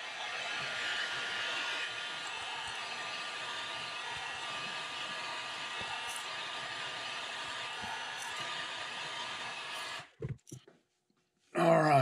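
A heat gun blows steadily to heat-set paint on custom crankbait lures, a loud, even hot-air roar running for about ten seconds before cutting off, followed by a few brief bumps.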